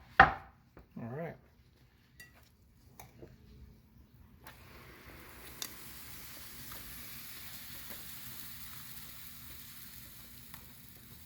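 Cornbread batter spooned into a hot skillet sets off a steady, soft sizzle lasting several seconds, preceded by a few brief clinks and scrapes of kitchen utensils.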